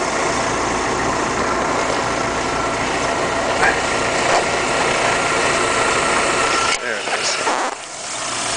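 A VW Cabrio's 2-liter four-cylinder engine idles steadily at close range, a constant low hum with brief handling noises near the end and someone speaking over it.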